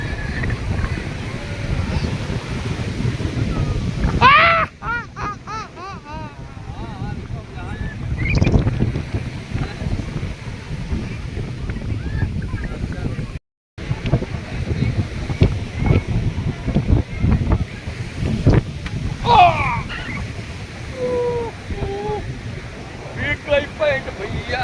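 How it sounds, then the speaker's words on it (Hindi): Sea waves at Dwarka on the coast, a steady rushing wash of surf mixed with strong wind buffeting, with a boat engine's hum and voices talking intermittently over it. "खूबसूरत लहरें।"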